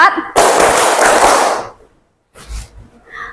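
A fourth-grade class clapping together in a classroom: a dense burst of many hands for just over a second, then silence and a few scattered claps near the end.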